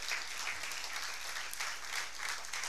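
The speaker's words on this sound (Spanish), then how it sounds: "Denle un fuerte aplauso a Él." A church congregation applauds continuously during a sermon, a dense, steady wash of clapping at moderate distance with no voices.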